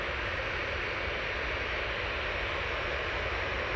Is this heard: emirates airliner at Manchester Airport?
yes